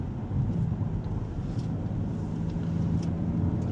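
An Audi RS5 at speed on the Goodwood track produces a steady low engine drone mixed with road and wind noise inside the car, fairly constant in level throughout.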